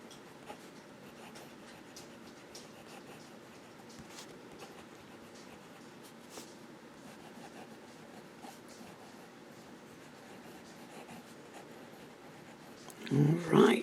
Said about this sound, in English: let's do some writing with this pen